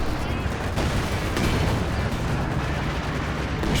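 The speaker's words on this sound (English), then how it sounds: "Stuka going after the machine gun in the middle. Gets an unfavourable rocket scatter though." Stuka dive bomber rocket strike in Company of Heroes 2, a dense, continuous rumble of scattered rocket explosions and gunfire filling the whole stretch, loud and close, with speech audible over it.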